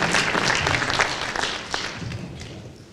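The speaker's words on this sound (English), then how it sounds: "Let's give them all a round of applause." Audience applause for four gubernatorial candidates at a criminal justice summit forum: steady, dense clapping from a crowd that fills the room, sustained evenly for about three seconds with no one speaking.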